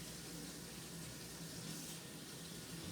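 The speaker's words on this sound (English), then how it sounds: "I'm just going to take some hot water from the sink." Hot water runs steadily from a kitchen sink tap, a continuous broadband rushing hiss that holds even and unbroken throughout.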